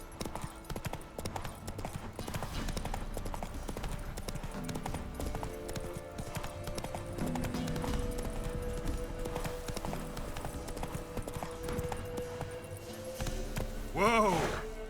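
Roach, Geralt's horse in Witcher 3: Wild Hunt, clip-clops at a steady pace under faint game music, slowing toward the end before a short neigh.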